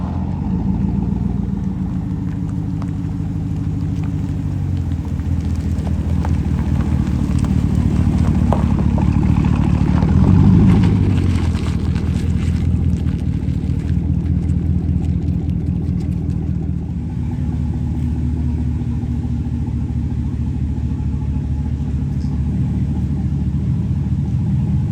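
A Vortec Max truck engine drones loudly on a dyno, a deep sustained rumble that swells toward the middle and then eases back to a steady run.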